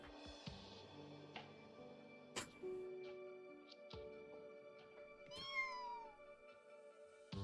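A cat meows in the fantasy video game Arknights, a short, clear, close call over quiet game sound effects and chimes, with a few other soft cues before and after it.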